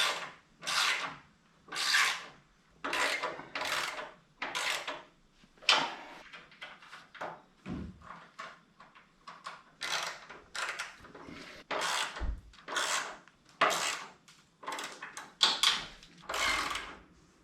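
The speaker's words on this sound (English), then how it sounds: "I have to run that in with an end wrench" An end wrench runs a bolt in on the deck of a small trailer, making a steady series of rhythmic, raspy ratcheting strokes with short pauses between them, close and moderately loud, with no speech.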